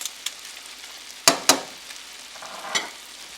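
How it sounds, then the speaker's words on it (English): Pre-prepared snails being mixed into sauce in a frying pan, with a few sharp scraping stir strokes over a faint, steady sizzle. "Add the pre-prepared snails to the pan, mix them in with the sauce"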